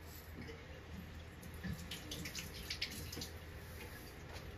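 A tap runs water steadily into a container holding old copper items being cleaned, a continuous faint rushing splash with small drips and gurgles throughout.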